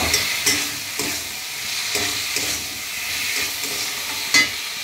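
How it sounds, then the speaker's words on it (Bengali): Black and white mustard paste sautéing in a pan, a close sizzle broken by repeated scraping strokes of a spatula at a loose, regular rhythm, with no talking. "কালো সাদা সর্ষে বাটা সঙ্গে বেটে নিয়েছি, একটু কষিয়ে নেব"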